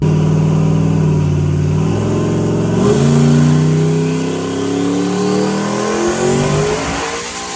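A turbocharged 5.3 engine in a Mustang screams up through its rev range on a dyno, one long loud sweep with a brief dip near the middle before climbing again and then letting off.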